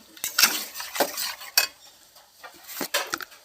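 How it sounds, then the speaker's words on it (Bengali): Metal spoon scraping and clanking against a cooking pot as mutton is mixed with ground spice paste, in irregular sharp knocks and scrapes with brief gaps between them, close and alone. "এবার আমরা মশলাটা দিয়ে দেবো মাংসের ভিতর। মাংসটা ভালো করে মাখিয়ে নেব।"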